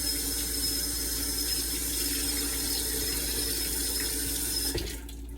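A tap runs steadily into a sink for hand washing, a loud, constant hiss of flowing water close by that drops off abruptly near the end.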